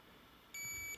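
A KR-S80LC access-control keypad gives one steady high-pitched electronic beep about half a second long as a user card is touched to it, clear and close in a quiet room.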